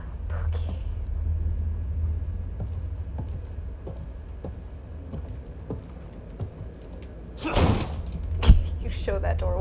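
A door is forced in The Evil Within 2: low rumbling and faint knocks build into two heavy slams and thuds near the end, under occasional speech.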